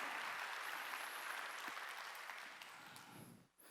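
Church congregation at a Wednesday worship service claps together in a sustained wash of applause, fairly distant and soft, tapering off near the end.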